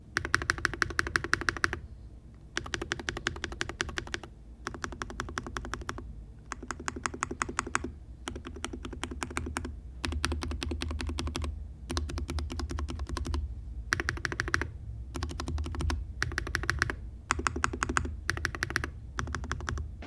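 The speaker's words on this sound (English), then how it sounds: "Here's a quick sound test on my current build with those different switches." Bursts of typing on a modded Wooting 80HE keyboard fitted with different switches, rapid crisp clacks in clusters of a second or two separated by short pauses, close and clear with no talking.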